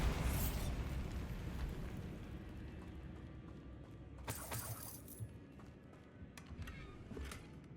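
A Bombarda blasting spell goes off in Hogwarts Legacy, a loud burst with crackling debris that fades over several seconds, followed by a few sharp smaller pops.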